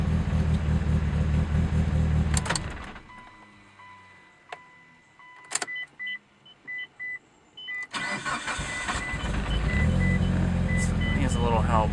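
A 2.4L engine on E85 with a stock ECU cranks and catches on a warm start, then sputters unevenly at first, close and loud. Several beeps come before it, and someone talks throughout.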